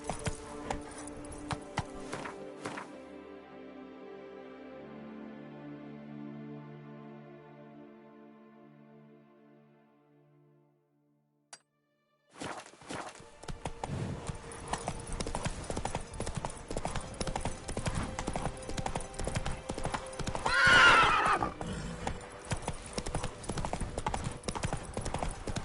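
A horse gallops in The Witcher 3: Wild Hunt's Blood and Wine expansion, with rapid rhythmic hoofbeats after a short quiet gap, a brief whinny partway through, and a soft voice at the start.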